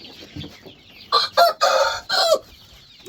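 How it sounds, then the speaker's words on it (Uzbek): Chickens at a hatchery with many chicks cluck, then a rooster gives several loud, close crowing bursts in quick succession with faint peeping beneath. "Mana jo'jalarimiz juda ko'p"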